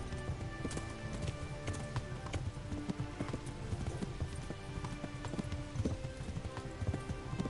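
Horse galloping in the video game Kingdom Come: Deliverance, rapid repeated clip-clop hoofbeats in a steady rhythm, close and continuous, with no talk over them.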